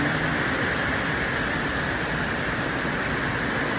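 A downpour drums steadily around a nipa hut by the sea during flooding rain, a thick, constant hiss of falling water that holds loud and uniform with no talking.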